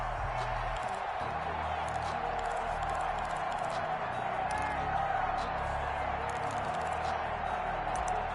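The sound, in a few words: football stadium crowd cheering at Soldier Field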